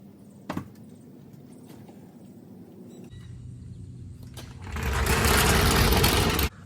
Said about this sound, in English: And now we'll bring down the jack so the car can sit on the jack stands.